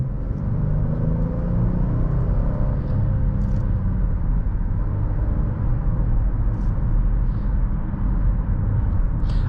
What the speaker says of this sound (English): I love the sound of these Honda V6s too.